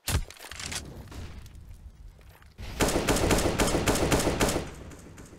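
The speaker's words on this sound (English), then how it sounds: "They're going to go at it with the pistols." Rapid pistol gunfire crackles through a Counter-Strike match, several bursts of quick shots at first, then a dense, loud stretch of overlapping fire in the second half.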